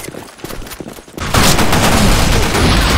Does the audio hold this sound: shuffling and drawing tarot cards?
no